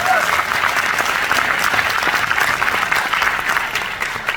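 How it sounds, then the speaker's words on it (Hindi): Sustained audience applause fills the room at a stage event, dense steady clapping from a large crowd throughout, loud and close with no pauses. "जोरदार तालियां और नीचे अक्षी के लिए।"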